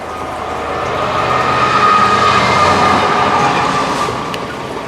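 Train rumbling past an underground workshop bunker dug into sloppy mud, a steady loud roar with wheel clatter that swells through the middle and eases slightly at the end, no voices.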